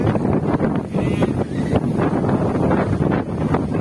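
Strong gusting wind over Jatiluhur reservoir, a loud continuous roar buffeting the microphone, with a faint hint of water movement underneath and no voices.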